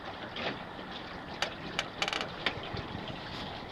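A Core Sound 20 sailboat beats upwind on a lake, giving a steady rush of wind and water under a few short knocks and creaks from the rigging.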